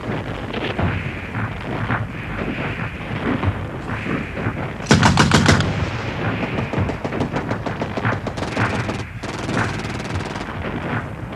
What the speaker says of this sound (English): Machine gun that direction.